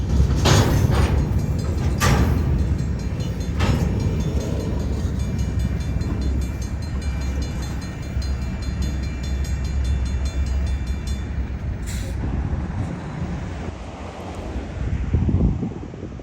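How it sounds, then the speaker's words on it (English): A freight train slowly shoves cars into a spur beside a seed warehouse in Harrisburg, a low continuous rumble with occasional metallic clanks and squeals, wind buffeting the microphone throughout. "The crew gingerly shoves into a spur serving Hayworth Seed Warehouse while a car is being loaded."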